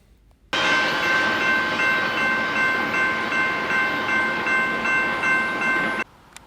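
A BNSF port container intermodal freight train passes with a loud, steady rumbling roar and a sustained high tonal hum, starting abruptly and cutting off after about five and a half seconds.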